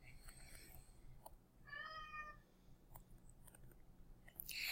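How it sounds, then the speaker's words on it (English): A pet cat meows once, a clear wavering cry of about a second rising out of a quiet room's low background hum, followed later by faint clicks and a brief rustle at the end. "Please ignore my cat crying in the background."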